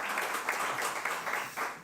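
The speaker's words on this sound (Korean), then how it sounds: "주님께 감사와 영광의 박수를 드립니다." Church congregation applauding together during a Sunday worship service, a steady wash of dense clapping that stays even for about two seconds, with no voices over it.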